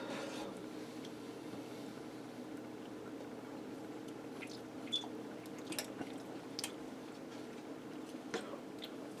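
Someone chews a mouthful of one-pot skillet spaghetti close to the mic, with soft, wet, squishy bites and small clicks over a quiet, humming kitchen background.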